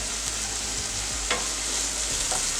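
Onion, green chilies and curry leaves sautéing in hot oil for vermicelli upma, an even hissing sizzle with a few spatula scrapes and a sharp tap, close and steady throughout.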